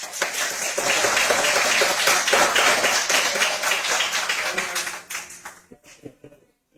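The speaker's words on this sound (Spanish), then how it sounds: "Un aplauso por el profesor." Audience at a lecture colloquium applauding the professor, dense clapping from many hands for several seconds that thins out into a few scattered claps and fades.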